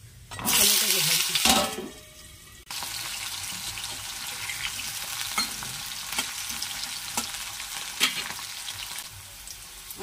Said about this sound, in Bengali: এবার আলুটাকে ভাজি।